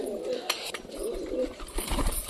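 Newly brought pigeons coo in a low, throaty way at close range, several soft calls spread through the moment, with a few knocks and shuffles around their perch stand.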